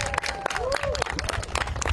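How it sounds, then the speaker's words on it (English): Clapping and scattered cheers from a crowd at a student walkout protest in Washington, D.C., close and lively, with voices mixed into the applause throughout. "So can we have a round of applause, Frankie?"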